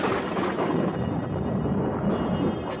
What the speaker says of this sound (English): Thunder crashed outside the house, and the Otises heard a dreadful cry.